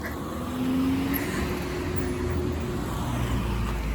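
Steady road noise from cars passing along a city street, a continuous close rumble and hiss with a brief tonal whine near the start, no talking.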